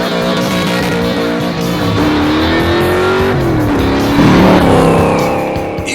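A loud Shelby Cobra engine roars steadily, its pitch rising and falling as it revs, with a tire squeal near the end.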